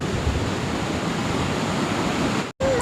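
Ocean surf washes onto Chandrabhaga Beach near Konark in a steady, loud, broad rushing roar, broken by a brief cut near the end.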